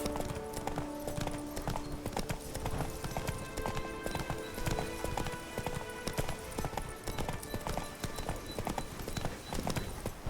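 Roach, Geralt's horse in The Witcher 3: Blood and Wine, trots along in a steady, close clip-clop of hooves that carries on throughout, with a game music bed beneath.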